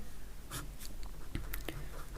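A pen scratches across paper in short strokes and taps, close and intimate, forming irregular bursts of scribbling as a letter is written.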